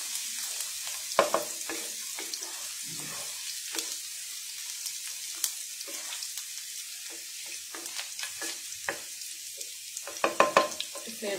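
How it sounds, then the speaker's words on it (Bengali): Garlic fries in a pan for cheesy prawn pasta, giving a soft, steady sizzling hiss dotted with sharp clicks and scrapes of stirring, busiest near the end. "তো রসুনটা একটু ভেজে নিচ্ছি"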